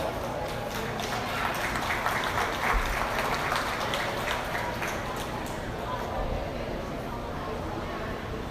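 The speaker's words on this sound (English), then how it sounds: "Go ahead and give them a round of applause." Sustained audience applause at a 2022 dairy cattle show honoring Jersey cows, a steady dense clatter of clapping that holds evenly throughout at moderate volume.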